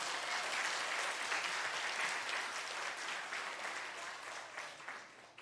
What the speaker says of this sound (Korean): 축복의 박수 한번 해주세요.